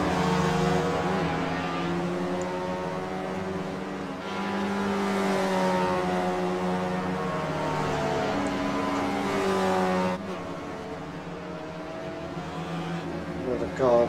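A race car lapping a circuit, engine note climbing steadily through the gears, dropping sharply on a shift or braking and climbing again, heard from inside the car with a voice speaking over it.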